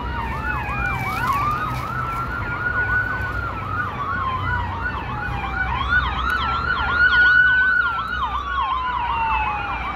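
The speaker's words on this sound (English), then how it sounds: "That's a proper use of siren right there." Two ambulance sirens wail together over road noise in Montreal, one with fast yelping sweeps and the other a slower rising and falling tone, fairly close.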